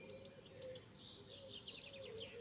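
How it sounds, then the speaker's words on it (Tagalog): Birds chirp and call in the morning beside a river in Szolnok, Hungary, a soft, busy chorus of high tweets over faint background hum, with no talking. "Nadidinig niyo yung mga huni ng ibon."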